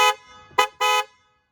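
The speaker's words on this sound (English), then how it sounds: "Horn test." Horn of a Polestar 2 electric car sounded in three bursts: a short toot, a brief blip, then a longer blast, each clear and close with silence between.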